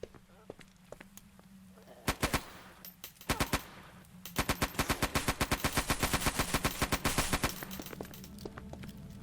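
Rapid automatic gunfire from the horror shooter game Eternal Evil, first a few short bursts and then a long fast rattling stream of shots, loud and close over a low game ambience.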